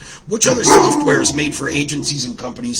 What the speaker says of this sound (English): Sorry for the dog interruption.